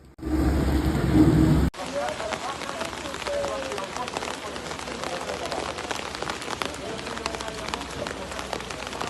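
Heavy rain from Storm Gabrielle in Spain pours with a dense, steady hiss, and water splashes continuously after a short louder burst at the start; a voice talks over it.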